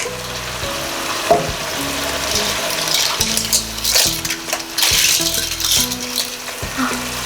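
Pippies (pipi clams) tumble into a hot pan of XO sauce with a steady loud sizzle, their shells clattering and rattling against the metal in several bursts as they are stirred.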